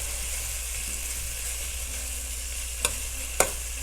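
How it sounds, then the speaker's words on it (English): Bacon frying in a pan for a corn chowder, a steady moderate sizzle with two sharp utensil clicks near the end and no talk. "we're just going to cook it for a little bit, and when it's nice and crispy, you know how you would usually do your bacon"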